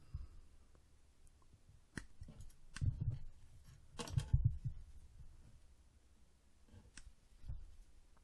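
A few separate crisp snips ring out as Shapeways 3D-printed dungeon gate parts are cut shorter, quiet isolated clicks spaced apart with near silence between them.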